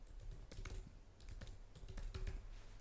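Quick irregular keystrokes tapped on a computer keyboard, a close run of clicks with short pauses between bursts, over a faint low background hum.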